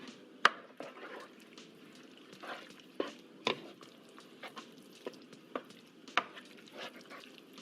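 Sloppy joe sauce stirred in a pan on a stove: quiet wet scraping and soft sloshing with scattered sharp clicks of the utensil against the pan at irregular intervals, close and low in volume.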